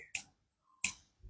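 Two crisp finger snaps, close and fairly loud, spaced about seven tenths of a second apart, followed by a faint low rumble.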